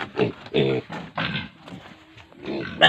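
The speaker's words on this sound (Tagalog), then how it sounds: "Tingnan natin yung mga alaga nilang baboy dito." Pigs kept on a rural provincial farm grunt in a series of short, close, fairly loud bursts, with low rough grunts repeating irregularly and a higher squeal-like call near the end.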